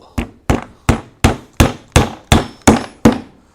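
The back of a Masaru cordless drill strikes a nail nine times in a steady, even rhythm, each blow a loud, sharp, close knock that decays quickly, with no talking.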